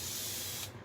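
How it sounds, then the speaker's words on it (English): A steady close hiss of a spray bottle misting water onto a chalk paste stencil, running nearly a second before cutting off. "I'm just going to spray it down with water."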